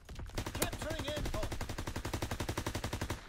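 Rapid automatic gunfire from a Call of Duty: WWII hardcore domination match rattles in steady, close bursts for the whole stretch, growing into a regular pulsing chatter toward the end.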